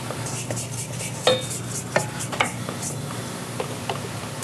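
Cookie dough for fall pumpkin cookies gets mixed and scraped in a bowl, with soft stirring and a few sharp clinks of a utensil against the bowl's side, close and unhurried, without voices.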